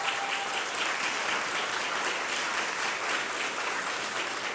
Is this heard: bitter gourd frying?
no